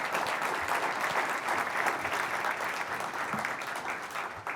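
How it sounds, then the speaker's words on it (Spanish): An audience applauds a panel at a talk event, with steady, dense clapping filling the room from start to end, and no voices standing out. "Un aplauso a este panel"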